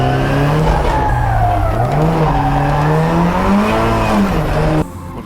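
Nissan Silvia PS13 drift car screaming through practice laps, engine note rising and falling with tire squeal close by, loud and continuous before a sudden cut near the end.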